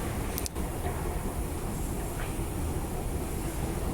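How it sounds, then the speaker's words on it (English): A High Wycombe train pulls away from a station platform as a steady, fairly loud low rumble that holds throughout, with a brief sharp clatter near the start and no voices. "I just missed the High Wycombe train"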